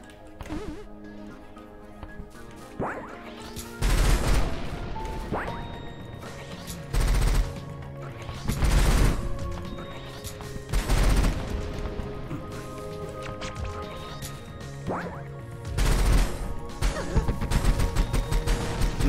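Gunshots in the video game Rusted Moss, a string of loud bursting blasts and crashes at irregular intervals over a busy background of game music and effects.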